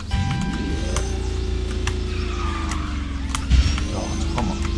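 A racing kart in the KartRider video game slowing down, its steady engine tone gliding gradually lower over several seconds, with a brief thump midway and faint game effects around it.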